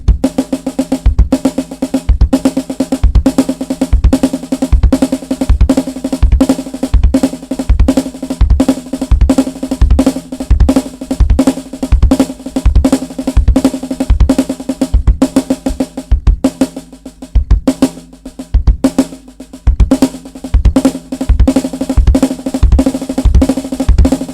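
A drum kit plays a steady, dense pattern of six-note hand groupings over repeated kick drum beats, loud and continuous for over twenty seconds with a brief thinning midway, no voices.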